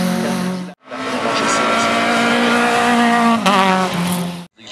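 Race cars at the Ayent-Anzère hill climb, among them an Opel Kadett and a Renault Clio, roar past loudly with engines held at high revs and gear changes, one continuous pass after another with brief gaps.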